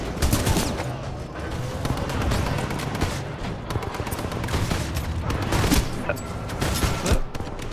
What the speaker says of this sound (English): There's a big gun up there.